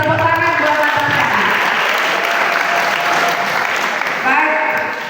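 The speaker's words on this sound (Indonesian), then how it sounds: "Tepuk tangan buat Natasha." Schoolchildren applaud a classmate named Natasha with loud, sustained clapping from a large group, voices and cheers mixed in throughout and tapering slightly at the end.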